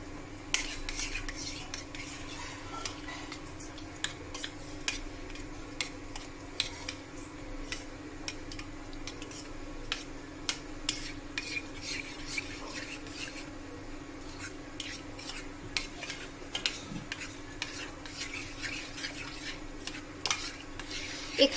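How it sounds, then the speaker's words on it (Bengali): Sweet yogurt (mishti doi) being stirred with a spoon in a bowl, a steady run of soft scraping and clinking strokes close by, with no talking. "এবার এই মিশ্রণটাকে এই দুটোকে একটু ভালোভাবে মিশিয়ে নিতে হবে।"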